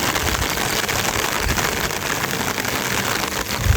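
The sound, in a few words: heavy rain at a campsite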